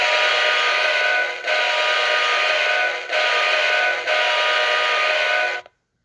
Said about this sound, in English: Horn.